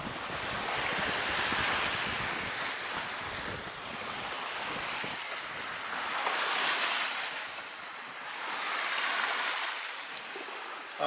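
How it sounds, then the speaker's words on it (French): Steady rushing wind and sea noise swell and fade in broad waves, loud and close, with no voices, aboard a sailboat making 6 knots in a south wind between Sardinia and the Balearic Islands. "un vent du sud, pas attendu parce que normalement c'était un vent du nord"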